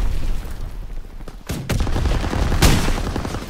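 Gunfire in Call of Duty: WWII, sharp rapid shots crackling loudly with a couple of heavier bangs standing out over a dense battle din.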